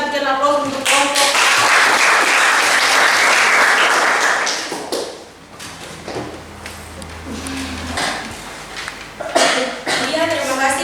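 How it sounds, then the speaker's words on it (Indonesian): Classroom audience applauds a student group after their presentation: a dense burst of clapping that lasts several seconds, then fades into quieter room noise, light taps and people talking. "Sekali lagi kita berikan aplaus untuk kelompok."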